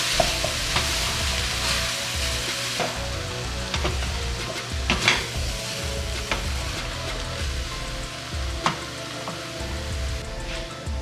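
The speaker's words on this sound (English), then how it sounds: "I'm just gonna add in the cauliflower and continue to saute this for about 5 to 10 minutes" Cauliflower and other vegetables sauteing in a pot give off a steady, close sizzle and frying crackle throughout, with intermittent scraping stirs and clinks of the utensil against the pot.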